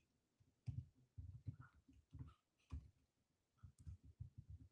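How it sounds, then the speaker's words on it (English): Typing on a computer keyboard, irregular bursts of close, soft key clicks in short clusters separated by brief pauses, quiet and without talk. "I know I'm typing slow here because I got like a microphone"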